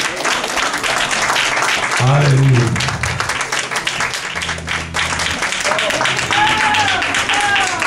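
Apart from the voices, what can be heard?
audience applauding the children in church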